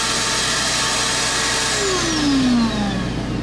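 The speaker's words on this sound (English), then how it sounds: "it clearly ran my shop vac with no problems." A shop vac runs on a 1000W modified sine wave power inverter, a loud steady whooshing hum close by, with a pitch sweep as the motor winds down near the end.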